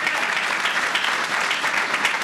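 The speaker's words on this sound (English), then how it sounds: "We have former Assembly Member, and please hold the applause to a low, low roar, for Lou Tobacco." Audience applause at an outdoor public announcement for a Staten Island seawall, a steady dense wash of many hands clapping that stays loud and even throughout without letting up.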